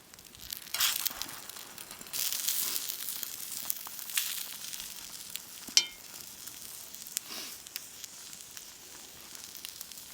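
An omelet with salsa sizzles steadily in a pan over a campfire, a close, continuous crackling fry with occasional louder pops and scraping stirs.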